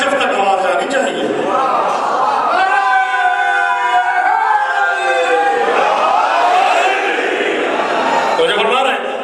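A large religious gathering at a Shia majlis shouts back a slogan in unison, a loud sustained roar of many voices that swells, dips, and rises again, filling the whole space.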